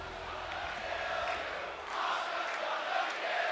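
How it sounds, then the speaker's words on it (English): Arena crowd in the WWE 2K24 wrestling game as Becky Lynch faces Asuka, a steady roar of cheering and shouting with a louder swell near the end, under faint commentary. "The crowd seem to be quite behind Asuka right now."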